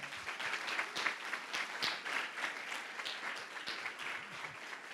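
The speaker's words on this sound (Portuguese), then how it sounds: "Vamos aplaudir o Senhor Jesus" Church congregation applauding, a steady, fairly soft wash of many hands clapping together from a distance, continuing evenly without speech.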